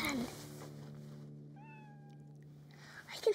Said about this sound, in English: I can hear a cat meowing.